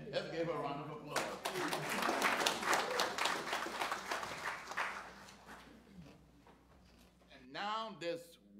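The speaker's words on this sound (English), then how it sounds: "Let's give her a round of applause." Church congregation breaking into a round of applause, sustained clapping that swells and then fades over several seconds, with a voice speaking before it starts and again as it dies away.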